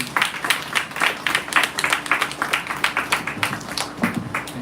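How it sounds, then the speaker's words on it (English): An audience applauds a speaker after a lecture, a steady patter of many hands clapping at close range, fairly loud and even throughout with no voices over it. "Give him a big round of applause, guys."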